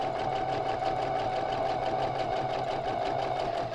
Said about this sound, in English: And I'm just sewing on that line.